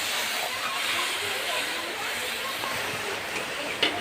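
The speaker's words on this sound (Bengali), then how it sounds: "এবার আমি পানি দিয়ে দিব।" Water poured into a hot pan of chicken roast, a loud steady broadband hiss of steam lasting throughout, with a small clink near the end.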